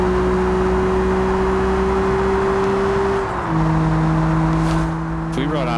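A steady engine drone holds a constant pitch, then shifts down as the gear changes, a car's motor in BeamNG humming under faint background noise.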